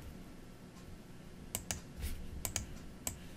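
Quiet keystrokes on a computer keyboard at a desk, a few scattered light clicks and one short cluster of taps against a faint room hiss.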